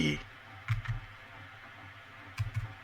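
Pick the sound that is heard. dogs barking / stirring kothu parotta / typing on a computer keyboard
typing on a computer keyboard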